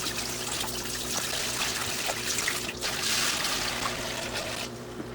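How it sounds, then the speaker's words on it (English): Water pours steadily into a 20-gallon reef aquarium being set up, a continuous trickling splash close by that swells briefly louder near the end. "So we're gonna put the water in."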